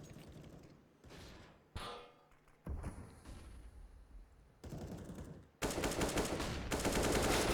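Rapid pistol gunfire in Counter-Strike on the Cache map during a Fnatic vs Gambit pro match, with sharp shot bursts and clattering reports that build to a loud, dense volley near the end.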